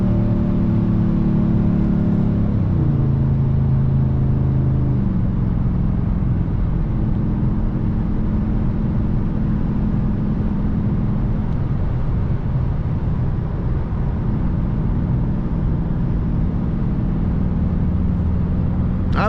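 A Dodge R/T with a 5.7 Hemi V8 drones steadily while driving, its low engine note rising and falling through gear changes early on, then settling into a constant cabin rumble with road noise and no talk.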